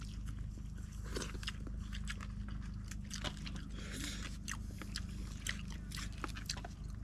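People eat sinigang soup at a table, with soft bites, chewing, crunches and spoon clinks over a steady low hum, close and faint.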